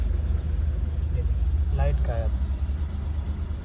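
Mahindra Bolero BS6 engine idling steadily with a low continuous rumble after a DEF-fault no-start, while someone talks over it close by.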